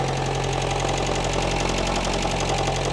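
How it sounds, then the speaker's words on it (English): A classic car's loud engine idles steadily at close range, a continuous rough mechanical drone with a faint rhythmic ticking knock running through it, with no talking. "It is still a noisy motor, but a completely different noise than it had before."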